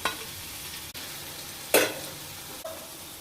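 Cashews and green chilies fry in hot oil for a mushroom curry, giving a steady close sizzle broken by a sharp clattering burst as they are stirred or dropped in, with no voices.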